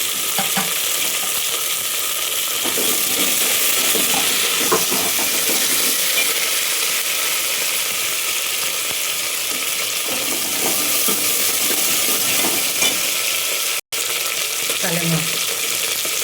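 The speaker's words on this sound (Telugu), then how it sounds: "కలెమాకు ఒక 2 రెమ్మలు, మంచి వేగాలి. ఒక 2 నిమిషాలు వేగితే నూనెలో బాగుంటుంది." Vegetables, okra, small onions and curry leaves fry in hot oil for sambar, a loud, continuous, close sizzle with stirring, one brief dropout near the end and faint talk.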